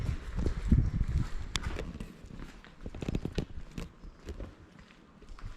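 Horse hooves clip-clop at Segovia castle in Spain, irregular hoof strikes at moderate distance amid ambient noise and low background murmur, louder at first then fading somewhat.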